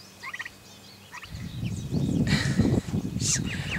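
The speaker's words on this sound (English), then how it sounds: "Remember being distracted by birds?" Turkeys gobble in a rapid, rattling burst that rises from quiet chirps into a loud, dense chorus of overlapping calls, with no voices present.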